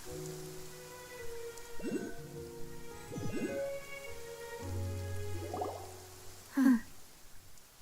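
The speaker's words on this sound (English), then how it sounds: "It's been raining non-stop for a few days now." Rain falls steadily in the video game Genshin Impact, a soft continuous patter beneath scattered musical tones and a few louder thumps.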